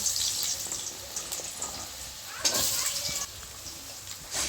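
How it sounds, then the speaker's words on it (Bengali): Potato pieces fry in hot oil in a pan, a close sizzle with sharp crackles and a few louder bursts, heard without speech. "আমি প্রথমে আলুগুলো ভেজে নেব।"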